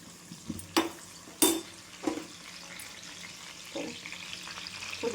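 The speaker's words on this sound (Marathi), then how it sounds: "तर बघू शकता कोथिंबीरच्या कड्या, कढीपत्ता आणि आपल्याला पुदिना पण तेलामध्ये छान परतून घ्यायचा" Mint, coriander stems and curry leaves sautéing in hot oil for pudina chutney, giving a low steady sizzle broken by a few sharp clatters of stirring against the pan, close and without talk.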